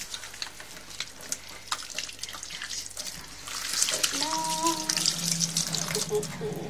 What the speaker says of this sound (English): First thing you got to do is wash your hands, so just wash away.